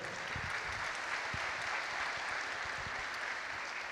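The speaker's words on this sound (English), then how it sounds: "Round of applause for our brother." Sustained applause from an audience at an interview with a fighter, a dense, even roar of clapping that stays at a constant level throughout, with a few low voices mixed in.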